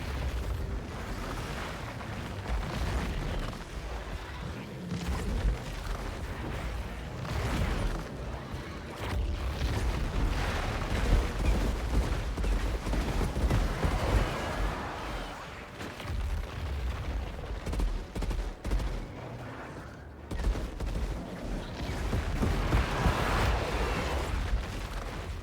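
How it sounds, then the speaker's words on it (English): Gunfire and explosions from an open-world action video game, with dense, continuous loud booms and blasts layered over a rumbling low-end background for the whole stretch. "Gunshots."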